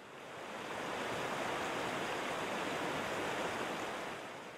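Water rushing into Champlain Canal Lock 5 as it fills, a steady broad roaring wash that swells in and holds evenly, loud and close, with no voices.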